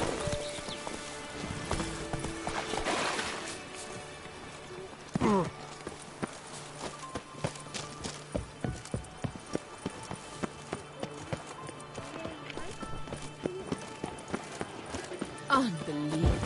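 Hooves of Roach, Geralt's horse in The Witcher 3, clip-clopping at a steady walk through much of the stretch, moderately close, with a voice talking over them and a brief whinny-like burst near the end.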